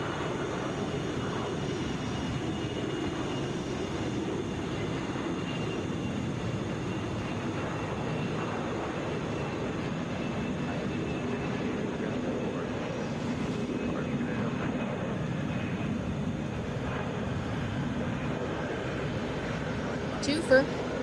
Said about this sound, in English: Airbus A320 there.